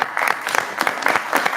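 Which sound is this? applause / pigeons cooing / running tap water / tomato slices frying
applause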